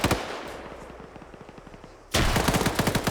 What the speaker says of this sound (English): he reverts to firing his rifle